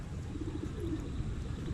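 Pigeons coo softly, low murmuring calls blending into a steady dull background with no distinct pauses.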